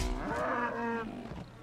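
A cow in the video game The Elder Scrolls Online gives a single long, loud moo that fills most of the moment, then fades out, with no talking over it.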